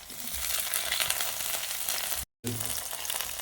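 Curry leaves, ginger, green chili and garlic dropped into popped mustard seeds in a pan, crackling and sizzling steadily up close, with a brief total dropout midway.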